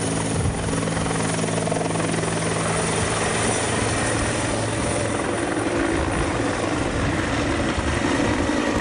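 A helicopter in bad-weather news coverage drones steadily with broadband rotor roar, holding loud and continuous throughout as it flies off, with no speech over it.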